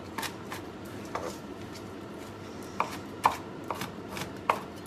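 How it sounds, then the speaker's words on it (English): Knife chopping pepitas (pumpkin seeds) on a board: a few sharp, scattered taps, some louder than others, over a quiet background with no talking. "So here we go, chopping up these pepitas."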